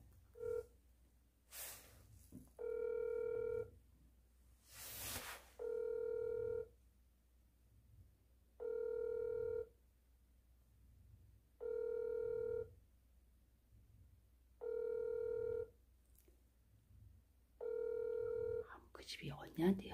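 A telephone call is placed and rings out: a ringback tone repeats six times in even bursts about three seconds apart, each around a second long, clear and close with quiet gaps between.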